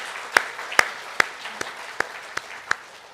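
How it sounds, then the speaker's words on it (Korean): A church congregation claps together in slow, even unison, about seven sharp claps spaced evenly across a few seconds, close and moderately loud. "함께 박수 한번 해주시죠"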